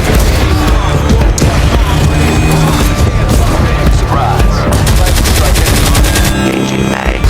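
Loud, rapid bursts of video game gunfire rattle almost continuously, mixing automatic fire with heavier booms and crashes.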